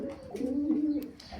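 Domestic pigeons cooing close by, a soft low burbling coo with a few faint rustles and a light click.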